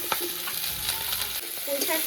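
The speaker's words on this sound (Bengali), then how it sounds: "রসুনটা হালকা করে ভেজে নেব" Garlic fries in hot oil as a seasoning for vegetables, a steady close sizzle with scraping and clinking of a spoon stirring in the pan, no voices.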